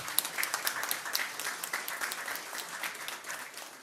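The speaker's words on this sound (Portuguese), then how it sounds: "Uma salva de palmas pelos representantes dos sindicatos." Quiet, fairly distant applause for trade union representatives in a council plenary session, a steady wash of many hands clapping with no talk over it.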